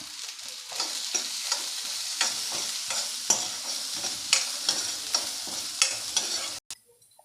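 Orange peel sautéing in a pan gives a continuous sizzle broken by regular scraping stirs about once a second, close and clear, stopping abruptly near the end.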